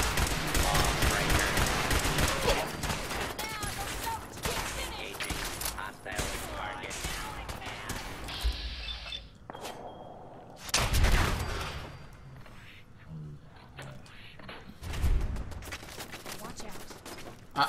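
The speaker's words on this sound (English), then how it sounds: "I'm gonna have to shoot my way out of this." Gunfire in the Fallout 4 video game: dense, rapid bursts of shots and heavy impacts fill the scene, dropping briefly before loud blasts return, with game noise and voices mixed underneath.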